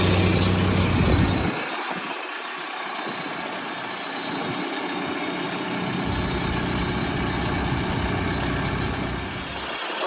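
A JCB 3CX compact backhoe loader's diesel engine runs steadily at close range while the wheel is turned, a low idling rumble that dips briefly after the first second and then holds even.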